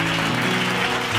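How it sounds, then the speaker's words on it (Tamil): A congregation claps together during a late-night Bible study sermon, producing a steady, dense wash of applause that holds at an even level for the whole moment, with a low hum beneath it. "கைத்தட்டு."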